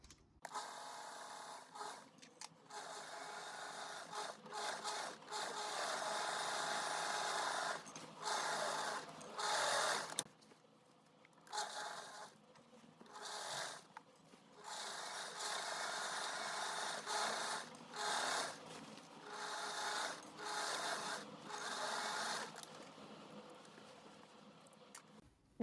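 A sewing machine runs in bursts of fast, steady stitching along the side seams of a skirt mock-up. Short pauses break up the runs. The whirring is close and fairly loud, with no talking over it.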